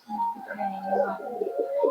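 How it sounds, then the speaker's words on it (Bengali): A female pigeon coos softly close by at a Bangladeshi pigeon sale, giving a low, rolling murmur of about two seconds with a faint voice in the background. "এই একটা মাদি কবুতর"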